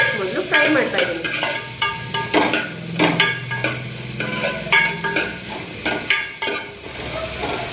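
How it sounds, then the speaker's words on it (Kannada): Two medium onions frying in hot oil for a spicy Bangda fish curry, a steady close sizzle broken by repeated scraping stirs of a spoon against the pan, with no talking. "ಈರುಳ್ಳಿನ ಹಾಕಿ ಮೊದಲು ಫ್ರೈ ಮಾಡ್ತಾ ಇದ್ದೀನಿ"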